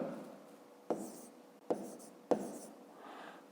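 A pen scratches on paper while writing out a math exercise solution, quiet and close, with three sharp taps or strokes breaking short stretches of soft scribbling in a still room.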